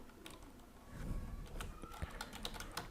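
Keys clatter on a computer keyboard as a filename is typed, a quick irregular run of light taps close by, fairly quiet against a low background hum.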